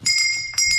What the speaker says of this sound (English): Ooh, that's a big bell.